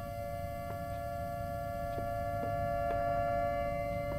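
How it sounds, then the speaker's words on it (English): Sirens in the horror video game Summer of '58 give a steady, sustained droning tone that holds at an even level throughout, with no talking. "The sirens, they're coming for me!"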